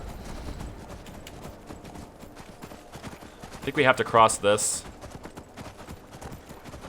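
Horse hooves in Skyrim clip-clop in a steady rhythm while riding, carrying on throughout as a voice speaks briefly over the middle.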